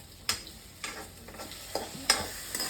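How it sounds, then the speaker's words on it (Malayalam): Garlic paste sautés in hot ghee with a steady sizzle, as a spoon stirs it in regular strokes roughly every half second, each making a close scraping tap. "ഗാർലിക് പേസ്റ്റ് ഇവിടെ വഴറ്റുകയാണ്."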